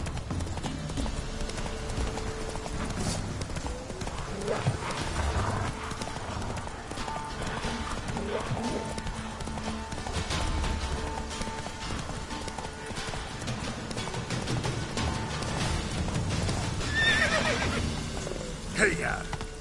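Hoofbeats of Roach, the horse in the Witcher 3 video game (Hearts of Stone), clip-clop steadily at a gallop with occasional whinnies, mixed with game music and ambience throughout.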